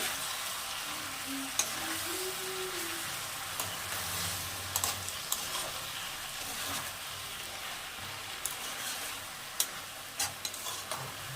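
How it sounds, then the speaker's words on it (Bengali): Potatoes, pumpkin and greens fry in a pan with a soft, continuous sizzle, broken by a few faint clicks of stirring. "আবার একটু নেড়ে নেব"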